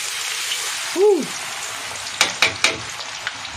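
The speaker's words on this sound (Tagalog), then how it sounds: "pag nilagay nyo tong bawang na halos 1/4 kilo, titilaksik yan" About a quarter kilo of garlic frying in hot oil for chili garlic oil gives a steady close sizzle, with a short swelling tone and then a few sharp spattering pops.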